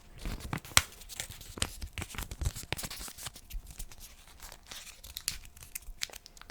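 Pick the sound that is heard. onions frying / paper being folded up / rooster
paper being folded up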